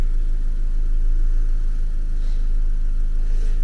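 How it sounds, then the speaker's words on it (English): A Nissan Micra engine idles with a steady, low, even hum, close and unbroken for a few seconds with no voices. "Your engine is running"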